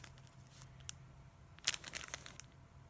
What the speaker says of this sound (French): C'est un petit sachet, ça fait du bruit.